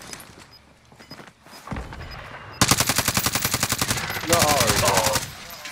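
Rapid automatic gunfire in a battle royale video game, a steady run of loud close shots building into a denser burst, with players talking briefly over it.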